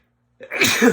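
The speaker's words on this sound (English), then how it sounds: "sneezing right in this guy's face," After a short silence, a single forceful sneeze erupts nearby, loud and explosive.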